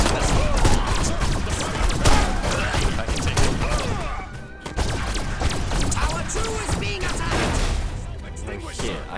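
Alien weapons fire in the video game Destroy All Humans crackles almost without pause, with dense rapid bursts and heavy impacts, a brief dip near the middle, then loud sustained shooting again.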